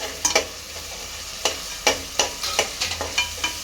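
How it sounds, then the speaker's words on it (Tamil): Two large onions sautéing in sesame oil for tomato rice, a soft continuous sizzle punctuated by about a dozen crisp ladle scrapes in an uneven rhythm, close by. "நல்லா எண்ணெயிலேயே நல்லா வணக்கி விட்டுக்கலாம்."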